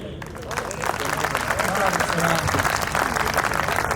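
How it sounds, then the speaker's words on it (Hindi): Audience clapping at a Hindi kavi sammelan poetry gathering, a steady dense wash of applause lasting throughout with crowd voices mixed in underneath. "आप तालियां देकर बताइए आज की ये टीम कैसी रही।"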